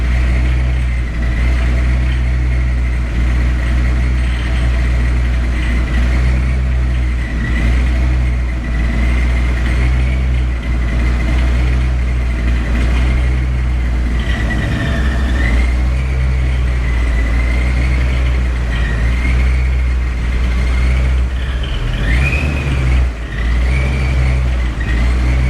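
A car fitted with a Tremec T56 transmission driving on a road, heard from inside as a loud, steady engine drone and road rumble with gentle shifts in pitch, continuous throughout.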